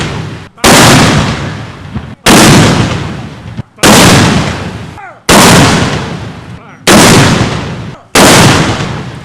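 A rare Napoleon field cannon firing outdoors, six loud booming blasts at regular intervals of about one and a half seconds, each decaying into a long rolling echo.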